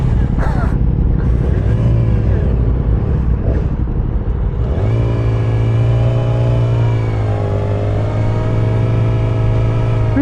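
A Yamaha R6 motorcycle pulls away from H-Cafe, its engine revving up through a rising tone and settling into a loud, steady drone close by, with talk in the background at the start.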